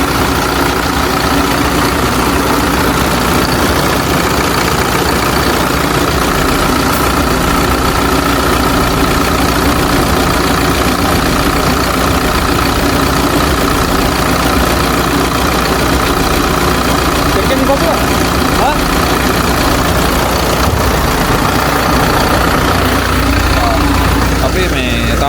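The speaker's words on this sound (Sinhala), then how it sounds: "සද්දේ එන්ජින් නොක් එක හරි ගියා." Hino J05E truck diesel engine idling steadily after an injector replacement, a continuous low rumble running throughout with no knock and speech over it.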